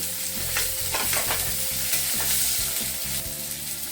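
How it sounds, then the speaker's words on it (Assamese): Two medium onions fry in oil, making a continuous loud sizzle with rhythmic stirring and scraping throughout, close up and without voices. "মই ইয়াত পিঁয়াজখিনি ভাজি ল'ম।"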